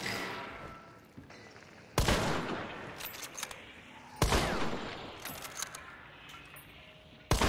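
Video game gunfire in a match: loud, sharp bursts of shots at intervals, each cracking out and ringing off, with quieter clattering and rattling between them.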